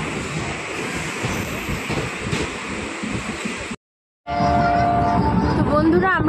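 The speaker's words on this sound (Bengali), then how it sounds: "তো আমাদের নিউ কুচবিহার থেকে ট্রেনটা ফাইনালি ছেড়ে দিল" A train pulls out of New Cooch Behar station with a steady, loud rolling rumble, drops out for a moment, then returns with clattering wheels and rising metallic squeals close by.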